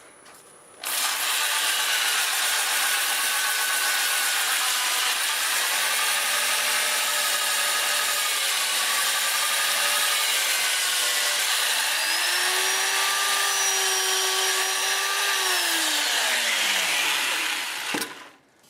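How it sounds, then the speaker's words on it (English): Steady, loud abrasive hiss of 80-grit sandpaper pressed against a spinning maple burl bowl on a lathe, running continuously for most of the time, close up. "no reason we can't sand this under power like that"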